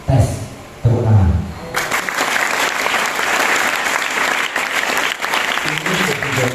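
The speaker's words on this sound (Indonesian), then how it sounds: "Tepuk tangan." Audience applause at a police chief's visit to an Islamic boarding school in Banjarnegara, Indonesia, with someone speaking briefly before a dense, sustained burst of clapping fills the rest of the clip.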